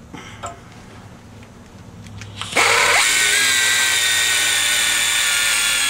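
A power drill bites into the head of a steel rivet on a homemade PSL rifle build, whining up loud and steady after a few faint clicks, then grinding on continuously.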